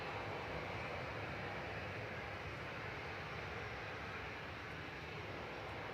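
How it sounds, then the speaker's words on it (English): A Ryanair Boeing 737-800 jet departs runway 23 left at Manchester Airport, heard as a steady, broad roar of engine noise that stays constant and distant throughout, with no talk. "Going next, though, on 23 left is going to be Ryanair 8102 to Barcelona"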